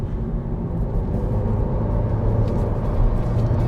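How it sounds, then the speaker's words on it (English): A 2022 Honda Civic with a CVT accelerates, giving a steady, even low engine drone and road rumble heard from inside the car, with no talking. "I'm going to accelerate now and see if the Civic CVT robs all joy from my life"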